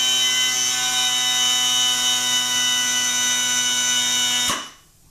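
A power plus nut install tool whines steadily with a high, tonal motor hum, then cuts off abruptly near the end and leaves near silence.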